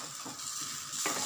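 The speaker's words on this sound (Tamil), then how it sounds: "கலந்துட்டு கிளறி விடுங்க." Country chicken curry cooks down in a pan with a steady sizzle while it is stirred, soft scraping strokes repeating through the short stretch and growing a little louder at the end.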